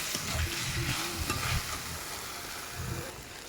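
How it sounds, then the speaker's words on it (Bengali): Small potatoes stir-fried with spices in a pan for Bengali aloo dum, a soft continuous sizzle broken by a few scraping stirs of a spatula, close and fairly quiet. "দু থেকে তিন মিনিট খুব ভালো করে কষে নেব মশলার সাথে"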